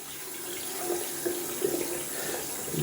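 Lukewarm tap water runs steadily into a sink as a boar shaving brush is rinsed, a soft continuous stream with faint splashy bursts where the bristles meet the flow.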